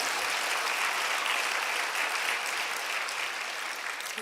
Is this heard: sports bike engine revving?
no